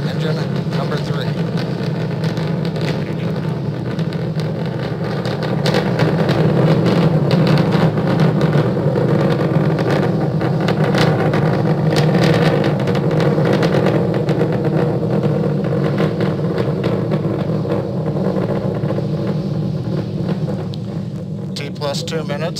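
A SpaceX Starship prototype climbs on two engines during a high-altitude test flight, heard as a continuous, heavy roar with a constant rumble. A commentator speaks over it.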